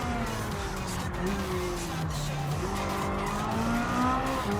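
A Ferrari F8 Tributo from 2019 drives in Gran Turismo 7, its engine note rising and shifting steadily with continuous revving and faint tyre noise, heard from outside the car with no talk.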